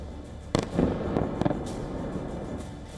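Russian missiles striking the Holosiivskyi district of Kyiv: several sharp, booming blasts in quick succession, with a low rumble from the impacts between them and no voices.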